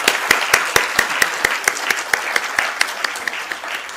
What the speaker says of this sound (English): Can we have a huge round of applause for everyone in the room,